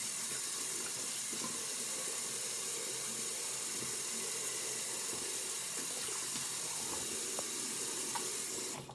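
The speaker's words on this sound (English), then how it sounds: "so I'll just wet my face." Tap water runs steadily into a bathroom sink while someone wets their face, a continuous close hiss and splash that cuts off at the end.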